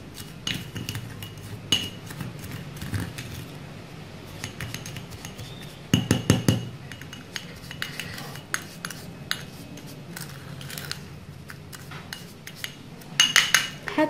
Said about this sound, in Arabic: ونخلط كل المكونات فيما بينها.